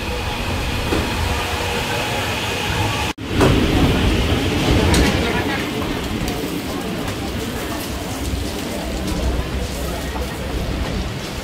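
A KRL commuter train runs on its rails on the Depok to Pasar Senen line, with a steady loud rumble and brief sharp breaks in the sound, while muffled talk is heard faintly in the background.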